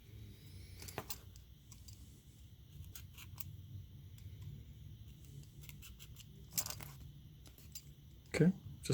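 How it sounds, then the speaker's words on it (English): A small relief cut made with scissors during a drone airframe build, heard as a few short, quiet snips and clicks spread through the clip, with a louder clatter near the end over faint room noise. "we're going to take just a little relief cut"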